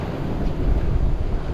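Strong wind at sea blasts across a sailing boat, a loud, continuous low roar and rumble of gusts buffeting the microphone, with no voices heard.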